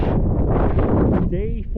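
Strong wind on a trail roars and buffets the microphone in a loud, continuous rush with low rumbling gusts, while a voice briefly speaks near the end.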